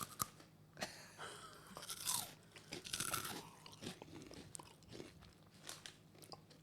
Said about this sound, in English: I love the crunch. Big fan of the crunch.